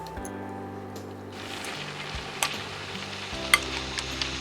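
Cauliflower koftas go into hot oil and a bright, steady sizzle rises after a quiet start, with a few sharp pops and spatters over the continuous frying hiss.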